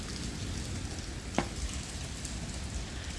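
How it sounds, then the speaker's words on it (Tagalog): Heavy rain pours down in a dense, steady hiss, fairly quiet and close, with one brief sharp knock partway through and no voices. "Lakas talaga ng ulan"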